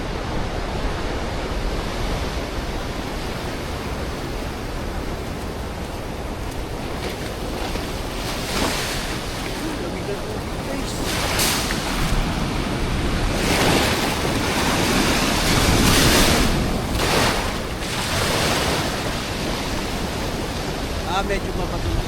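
Sea waves wash onto a rocky shore on an island in steady, loud rolling surges with several stronger breaking crests, mixed with wind buffeting the microphone and no talking heard.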